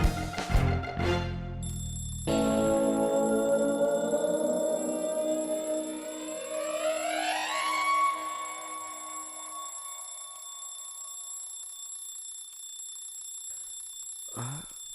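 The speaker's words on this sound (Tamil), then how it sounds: "எந்த நேரத்துக்கு யார் அலாரம் வச்சா?" An alarm clock rings loudly and insistently for several seconds, its tone rising and then trailing off into a long fading ring, with a brief knock near the end.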